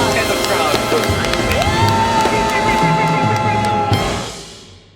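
A crowd watching a street magic show cheers and whoops loudly in a continuous roar, then fades away in the last second.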